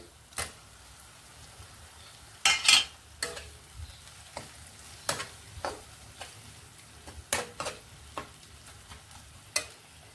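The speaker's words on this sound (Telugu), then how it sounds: "ఇప్పుడు టమాటా ముక్కలు వేసుకుందామండి." Tomato pieces go into an amaranth leaf curry cooking in a pan, heard as a quiet sizzle broken by scattered sharp clicks and scrapes of stirring. There is no talk.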